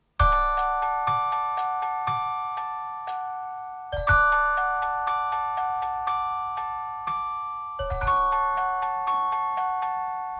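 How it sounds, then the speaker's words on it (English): Metallophone from the Abacus sample library playing very simple sustained chords, struck notes ringing out in a steady rhythm of roughly one strike per half second, with fresh louder chord attacks every few seconds, clear and close with no voices. "I doubled that with the metallophone, just playing some really,"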